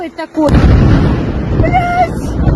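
A suicide drone detonates on a building a few metres from a Tel Aviv hotel at night: a sudden, deafening blast that cuts off brief tonal sounds and is followed by a long, rumbling roar and some distant whistling.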